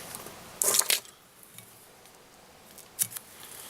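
Two quick, close snips of small scissors trimming thread on a fly-tying hook, the first a double cut, with quiet handling noise between.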